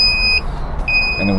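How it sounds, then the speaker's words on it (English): A fire alarm panel in a zone 4 tamper test emits a high, steady electronic beep, sounding twice with a short gap between, close and clear over a low background hum. "Panel's beeping, and you have active tampers, zone 4."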